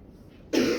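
A single sharp sneeze bursts out in a lecture hall during a physics class, loud and close, following a quiet stretch of room tone.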